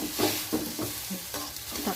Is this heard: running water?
no